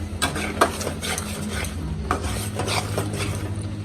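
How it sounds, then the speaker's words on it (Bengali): Masala being stir-fried in a pan until the oil separates, a busy rhythm of scraping and clattering spatula strokes over a low sizzle, close and loud. "কষাবো, কষিয়ে তেলটা বের করে ফেলবো।"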